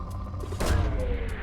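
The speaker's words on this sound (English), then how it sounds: "Launching probe." A single launch burst from a probe being fired in Mass Effect Legendary Edition, a short whooshing thump rising over a low ambient hum and quickly fading.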